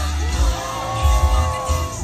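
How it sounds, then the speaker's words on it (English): Crowd at Beach n' Chili Fest in Myrtle Beach cheering on a pie-eating contest, a steady loud roar of yells and whoops with swells of shouting over a low rumble. "Cheer them on, everybody."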